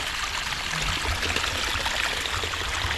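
A stream swollen after a night of heavy rain rushes steadily close by, a constant broad wash of flowing water that fills the whole stretch with no pauses.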